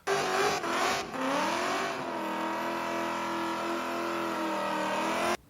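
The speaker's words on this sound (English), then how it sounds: "Now I nearly forgot my favourite, Neighbour, his Crown Vic burnout car." A Ford Crown Victoria burnout car revs hard, its engine climbing and falling in pitch through a sustained, loud roar with a brief dip early on, then holding a steady high drone before cutting off abruptly near the end.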